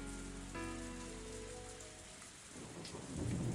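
Steady rain with rolling thunder in the video game Higurashi When They Cry, a dense continuous downpour swelling louder toward the end, with a low tonal music layer in the background.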